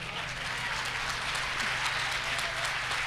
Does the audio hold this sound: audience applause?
yes